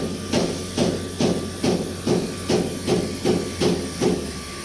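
A faulty fuel pump motor on a Foton dump truck sputters in a steady pulsing rhythm, about two hissing chugs per second, loud and near over a constant low hum, with nobody talking.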